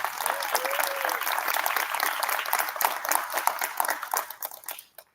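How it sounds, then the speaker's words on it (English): An audience at a National Junior Honor Society induction ceremony applauds in a dense, sustained round of clapping that tapers off toward the end. "Please join me in thanking them with a round of applause."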